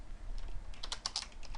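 Typing on a computer keyboard, a quick run of close, crisp key clicks with short pauses, alone with no talking.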